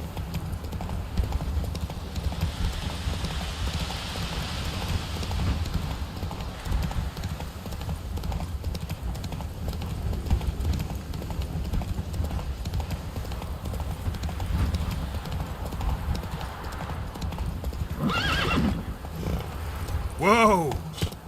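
Horse Roach galloping in The Witcher 3 video game, rapid rhythmic hoofbeats pounding on steadily with a short rising whinny near the end, under game sound and some voice.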